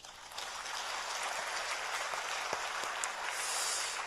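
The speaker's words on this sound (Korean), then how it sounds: "박수." A congregation applauds during a church service, a dense, steady wash of clapping that swells in quickly and carries on evenly with a few sharper claps standing out.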